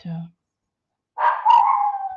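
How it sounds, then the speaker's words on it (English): A dog's short bark followed after a pause by a drawn-out, wavering howl-like bark, fairly close and alone. "now the dogs are barking"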